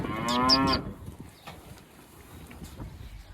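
One cow from a fall group of cattle on a farm lets out a loud, close moo at the start. Quiet shuffling and faint hoof steps follow.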